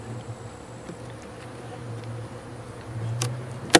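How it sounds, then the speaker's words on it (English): Honeybees hum steadily around an opened hive box during winter hive preparation, a low continuous buzz with a few sharper close passes near the end. "Just a few bees."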